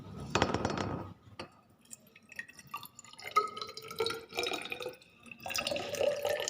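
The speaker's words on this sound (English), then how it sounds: "I have put some water inside it." Tap water trickles and drips into a glass measuring cylinder, faint, close splashes and clinks coming in uneven bursts with quiet gaps.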